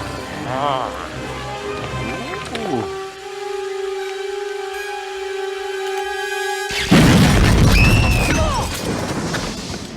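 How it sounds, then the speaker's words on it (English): A gas explosion in an animated Lilo & Stitch scene: steady whining tones hold, then a sudden loud blast bursts in and rumbles on as a crashing wash, with voices around it. "is only saved from a gas explosion by Pleakley"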